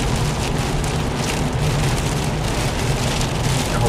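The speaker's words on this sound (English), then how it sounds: "the rain is very heavy. Not so much wind, but lots of rain." Heavy rain pours down steadily during Tropical Storm Ernesto in Florida, falling over a flooded field near Lake Okeechobee. It is a loud, dense, unbroken hiss that lasts throughout, with no voices.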